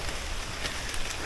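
Steady rain falls during a hike on a moderate jungle trail near a waterfall in Malaysia, a dense, even hiss that fills the short moment without a break.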